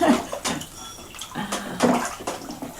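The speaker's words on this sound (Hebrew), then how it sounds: "מים? זה פלאץ'." Water splashing and sloshing in a bathtub, several irregular bursts of splashes close by over about three seconds, fairly loud, with no talk over it.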